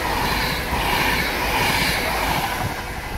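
An unbranded Pendolino train passes close by as a loud, continuous rushing roar with a rumbling low end that holds steady throughout, with no voices.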